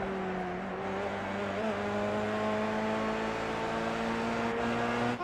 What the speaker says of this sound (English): Fitzsimmons, his car sounds absolutely awful as we go on board